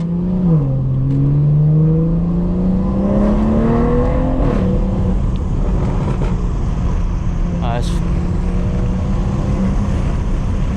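A 2018 BMW 4 Series hatchback with a Stage 2 tune accelerates, its engine note climbing through the revs then settling into a loud, steady drone heard from close by, with occasional faint background sounds.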